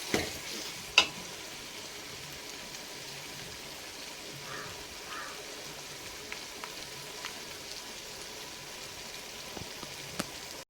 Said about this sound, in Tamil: பத்து நிமிஷம் வணங்கட்டும் இஞ்சி பூண்டு பேஸ்ட் போட்டிருக்கேன்